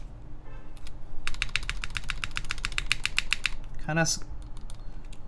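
Rapid clacky typing on a Keycult No. 1 TKL mechanical keyboard with a rattly stabilizer, a run of about twenty crisp keystrokes, then a short spoken remark.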